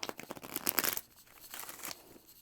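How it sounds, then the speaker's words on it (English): Tarot cards being shuffled in a quick burst of crisp, papery riffling and crinkling up close, then softer sliding and shuffling that tapers off. "Okay, one more shuffle."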